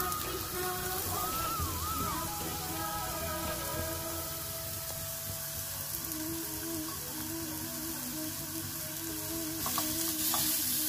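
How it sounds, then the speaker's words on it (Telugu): Ridge gourd peel with turmeric fries in a pan, producing an even, close sizzle and crackle that runs throughout, with faint occasional scrapes of stirring. "ఈ పొట్టు బాగా మంచిగా వేగాలండి"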